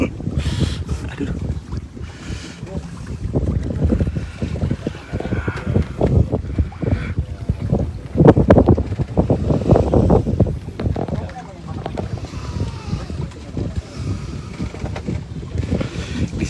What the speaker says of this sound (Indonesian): Di sini anginnya sangat kencang.